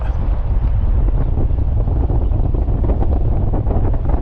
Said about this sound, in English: A little bit blustery, a little bit of a southerly up.